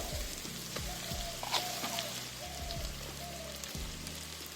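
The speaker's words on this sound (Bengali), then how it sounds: "চিংড়িটা দিয়ে সব কিছু একটু ভেজে নেব" Prawns and fried rice ingredients fry in a wok with a steady rain-like sizzle and crackle, broken by a few sharp scraping strokes and low clunks, all fairly close and without any talk.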